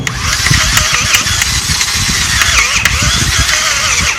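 A hand tap cutting a 1/4 thread into aluminum, heard as loud, dense mechanical grinding and ratcheting that runs continuously and close up, with no talking.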